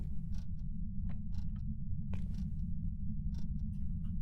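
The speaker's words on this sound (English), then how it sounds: "I just heard it open a door" A door creaks open on an asylum stairway, slow irregular wooden creaks and ticks over a constant low hum, heard alone without talk.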